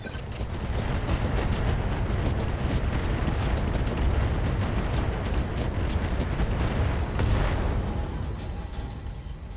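Mech weapons firing in RogueTech, a dense roaring barrage of rumbling blasts and rapid crackling impacts that runs unbroken and loud, with a heavier swell near the end.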